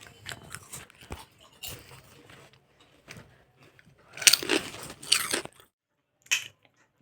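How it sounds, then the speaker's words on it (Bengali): Crisp chips are eaten with khichuri, several loud close crunching bites spread over a few seconds, between quieter chewing and pauses. "খিচুড়ি দিয়ে চিপস খাচ্ছি।"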